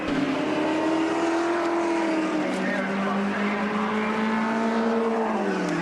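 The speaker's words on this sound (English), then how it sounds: "The second last time Peter Brock goes to the final bend at the end of the straight," A 1975 Holden Torana L34 race car howls through a high-revving run at Bathurst, its steady engine drone rising and falling across gear changes near the final bend, with a commentator talking over it throughout.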